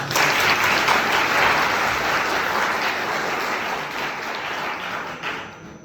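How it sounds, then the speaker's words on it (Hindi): Students in a lecture hall applauding together, a dense continuous wash of clapping at fairly close range that holds steady for several seconds and then tapers off near the end. "इस अपने परिवर्तन के लिए ताली बजाओ।"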